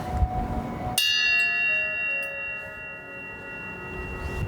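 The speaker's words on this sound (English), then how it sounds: "Did you ring the bell?" A single bell in Nagano, Japan, struck once and ringing clearly, its bright tone lingering and slowly fading for several seconds over a faint background, with no talking.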